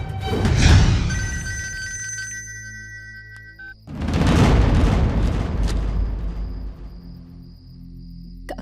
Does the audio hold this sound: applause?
no